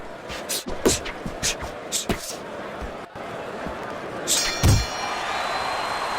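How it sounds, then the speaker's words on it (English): A boxing round-end bell rings in the video game Fight Night Champion, with short metallic dings rising over crowd noise and a commentator's voice, fairly close and bright. "the bell rings, signifying the end of the round"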